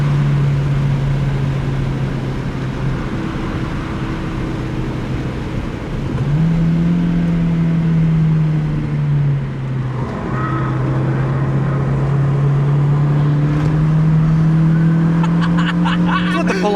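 A Honda CR-Z driven hard on a winding mountain road, heard from inside as a steady, loud engine drone whose pitch climbs and dips through gear changes and throttle lifts, with constant road noise underneath.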